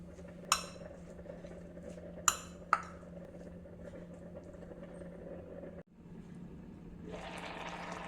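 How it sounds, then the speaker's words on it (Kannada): A spoon stirring a tempering of mustard seeds, asafoetida and curry leaves in oil into khichdi in a pot: three sharp metallic clinks against the pot over a low hum, then a wet, splashy swirl toward the end. "ಈಗ ಚೆನ್ನಾಗಿ ಮಿಕ್ಸ್ ಮಾಡ್ಕೊಳ್ಳೋಣ."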